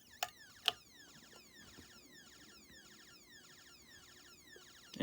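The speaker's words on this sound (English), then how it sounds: "Here's the thunder." Rapid descending sweeps from a GALLS ST105 siren on its thunder tone repeat in a steady rhythm, a mechanical-sounding pulsing whoop, preceded by a couple of sharp clicks near the start.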